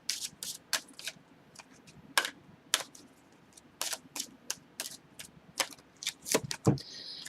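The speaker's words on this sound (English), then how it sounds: "So what I'm going to do is shuffle the cards real fast" Endora's Fortune tarot cards are shuffled fast in quick, crisp riffling clicks and snaps that come in irregular bursts, close and fairly quiet, over faint room hiss.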